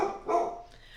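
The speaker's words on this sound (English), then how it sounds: "Sorry about my dog." A single close, loud bark from a pet dog, heard alone with no speech.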